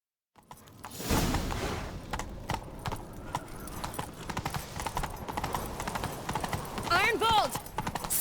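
Rapid hoofbeats of a galloping horse in The Witcher 3: Wild Hunt, under voices shouting, with a short neigh near the end over busy game sounds.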